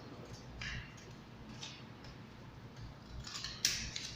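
Scissors snip through paper to cut out a triangle, a few quiet crisp snips spaced about a second apart with a sharper final cut, close by over a faint background hum, no talking.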